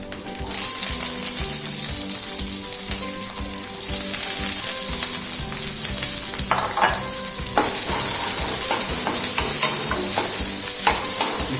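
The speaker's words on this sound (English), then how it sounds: "We saute it nicely" Sliced onions sautéing in a pan alongside golden-brown roasted garlic for a spinach mushroom soup, giving a steady loud sizzle throughout with scraping stirs and utensil clicks, no talking.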